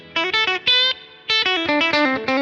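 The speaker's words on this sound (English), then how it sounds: "Next is the spring reverb." Short bursts of distorted electric guitar played in a choppy, rhythmic pattern through a Fender Mustang Micro with spring reverb, each stab leaving a brief springy wash; loud and close, no voices.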